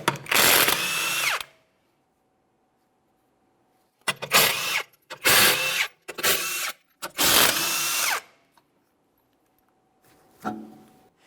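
An impact gun spins off five 21mm lug nuts from a rear wheel of a 2008-2017 Mitsubishi Lancer, in five loud, separate whirring bursts with quiet pauses between them and a faint hum in the gaps.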